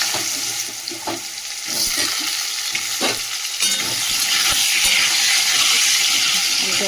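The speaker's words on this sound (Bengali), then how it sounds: "আলুটা ভাজা হচ্ছে" Cut potatoes frying in oil seasoned with salt and turmeric hiss with a constant loud sizzle, while a spoon scrapes and clinks against the pan in irregular stirring strokes.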